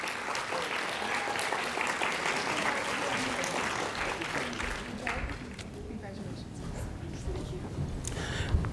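Sustained audience applause fills an awards ceremony hall after Biological Science A winners at a state science fair, a dense steady patter with some voices mixed in, fading slightly toward the end.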